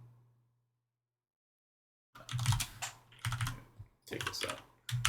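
Fingers tap on a computer keyboard in three short bursts of quick, close keystrokes after two seconds of near silence, with a faint low hum underneath.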